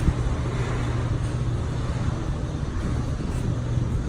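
A third-generation Cummins diesel pickup cruising down the road, a steady low engine drone with broadband road and wind rumble, continuous and even throughout.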